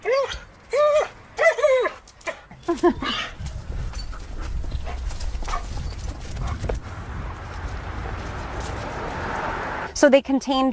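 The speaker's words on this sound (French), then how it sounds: "Leslie emmène Steve, son jeune chien-loup de 4 mois, et Touyi, une femelle de 2 ans, en promenade" Two wolfdogs, a four-month-old pup and a two-year-old female, out on a walk, giving several short yelps and whimpers up close, followed by soft panting and rustling movement, with a few more yelps at the end.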